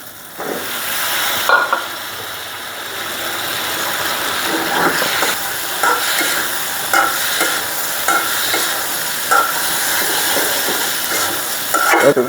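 Spiced masala, cooked down until the oil separates, fries steadily in a pan as madhukosh is added. A spatula scrapes and stirs it again and again in a regular rhythm over a continuous close sizzle.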